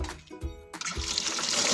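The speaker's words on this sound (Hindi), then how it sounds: "चलो पानी हम नया भर देते हैं आगे" Water pours into a dog's water bowl as it is refilled: a brief splash, a short pause, then a steady, close rush of running water that builds and holds to the end, with no talk.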